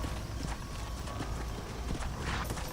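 Horse hooves clip-clop steadily on the ground in Red Dead Redemption, a continuous mid-distance trotting rhythm over a dense wash of game ambience.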